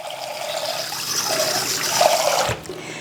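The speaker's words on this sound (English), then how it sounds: "You add water." Water poured over lentils set out for sprouting: a steady, close splashing pour lasting about two and a half seconds, then cutting off to a faint trickle.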